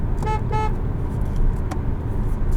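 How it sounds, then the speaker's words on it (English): Two short horn toots from a 2020 Kia Soul X-Line in quick succession over a steady idling engine rumble, followed by a faint chirp. "Just in case you're wondering what the horn sounds like."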